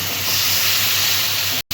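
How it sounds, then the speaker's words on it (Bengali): Chili and turmeric spice paste sizzles in hot oil for a fish curry, a loud, close, steady hiss that cuts off abruptly near the end. "এবার আমি একটু কষিয়ে নেব মশলাটা।"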